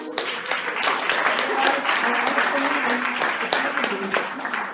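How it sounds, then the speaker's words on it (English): A network marketing event audience applauds steadily for several seconds, a dense wash of many hands clapping at close range with no clear pauses. "give yourself a round of applause"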